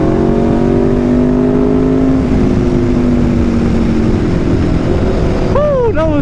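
On a short rainy ride, an Aprilia RSV4 motorcycle fitted with an SC-Project exhaust drones with its engine tone falling away under heavy, roaring wind noise, then briefly revs up sharply near the end. A rider talks over it.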